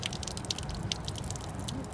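Distilled water from a solar still dripping into a receiving bucket, a quick irregular patter of small drops over a low background hum, close and fairly quiet.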